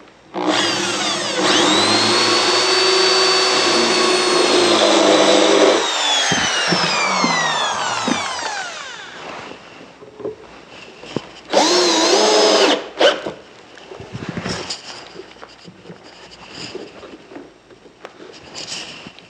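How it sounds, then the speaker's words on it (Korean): Power drill boring angled holes and driving screws into a wooden frame for a kid's desk top: a long whining, rising drill run with descending pitch sweeps, then shorter bursts of driving and scraping with pauses between. "상판 붙이기 위한 프레임에서 사선으로 구멍을 뚫고 나사못을 박도록 하겠습니다"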